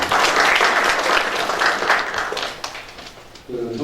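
An audience at a policy forum on Korean history textbooks gives a loud burst of applause that fades after a few seconds, and a voice starts speaking again at the end.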